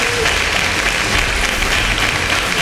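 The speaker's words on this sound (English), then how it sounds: "A round of applause once again to them." Steady, loud applause from a crowd at a competition grand finale, continuous clapping filling the whole stretch with a dense, even roar.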